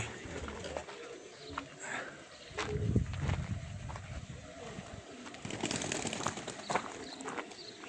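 Racing pigeon arriving at a loft during a Nakhchivan race flight, with low soft coos and wing or footstep clatter over faint outdoor background and distant voices.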